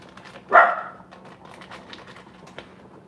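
A single sharp dog bark rings out, followed by quieter shuffling and faint background noise.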